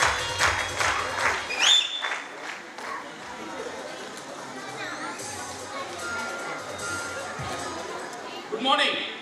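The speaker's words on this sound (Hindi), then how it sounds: "उनके लिए एक जबरदस्त ताली होनी चाहिए" An audience at a marketing event in Maharashtra applauds as a speaker is welcomed on stage, scattered clapping and crowd chatter rising and falling, with a voice over the mix and a louder swell of cheering at the end.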